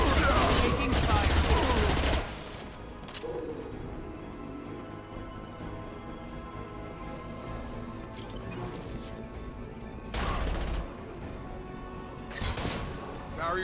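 Gunfire in Mass Effect 2 Legendary Edition combat: a loud opening burst of shots, then sporadic bursts and impacts over ongoing battle noise, with voices speaking between the volleys.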